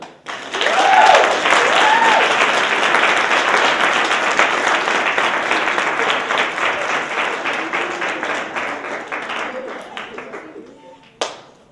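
An audience at a classroom presentation bursts into loud, dense applause that builds quickly, holds steady, then tapers off over several seconds, ending with a single sharp clap.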